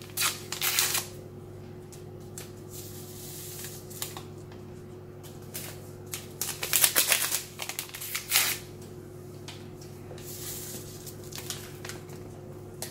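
Sugar and vanilla sugar are being stirred into a cheesecake mixture in a bowl, making soft scraping, patter-like bursts of mixing over a low steady hum. The bursts come in uneven clusters and no one speaks.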